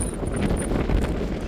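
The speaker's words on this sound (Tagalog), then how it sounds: "Mahangin." Steady wind buffeting the microphone, a dense low rumble that persists throughout with no voices.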